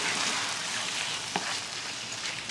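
Red sauce sizzles and hisses in a pan over low heat, a dense close frying noise with a single sharp pop midway, no talk over it.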